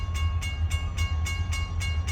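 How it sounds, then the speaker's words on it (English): A long freight train on the Kiamichi Railroad near Garvin, Oklahoma, rolling past close by with a heavy low rumble and a regular rhythmic clacking about every quarter second, plus a faint tonal ring. "Another good long train."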